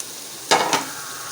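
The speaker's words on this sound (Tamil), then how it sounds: "இதை கொஞ்சம் நல்லா எண்ணெயில் வதக்கிட்டு" Green chili, coriander and mint sauté in hot oil with ginger-garlic paste for dum chicken biryani, a steady close sizzle broken by two quick scraping stirs about halfway through.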